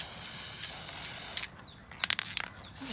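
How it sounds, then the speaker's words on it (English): A sustained aerosol hiss that cuts off, followed by a few short, sharp spray bursts close by, sprayed onto Toyota 4Runner rear brake pads. "Just shake it up real good, give it a good shaking, and just spray your brakes with them."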